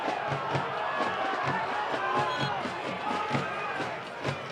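Home supporters of Chattanooga FC, the Chattahooligans, protest a foul call at a NISA soccer match against Michigan Stars FC, a sustained crowd roar with scattered shouts and periodic thumps, steady and fairly loud throughout.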